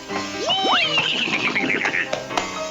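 A horse gives a loud, close whinny that rises and then trails off into a shaky fading neigh.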